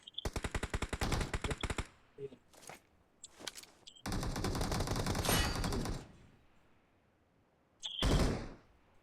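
Gunfire in the mobile battle royale BGMI: rapid bursts of sharp shots in quick trains, separated by short gaps and a final louder burst, with faint movement sounds in between.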